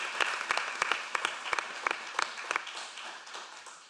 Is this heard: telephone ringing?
no